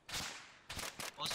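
A few quick bursts of gunfire in the video game Arma 3, a sharp volley followed by two shorter shots, with a faint voice mixed in.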